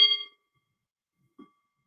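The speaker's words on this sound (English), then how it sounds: "So I chime the bell." A small bell struck once to open a prayer gives a bright ring that fades within a fraction of a second, followed by a faint soft knock and then quiet.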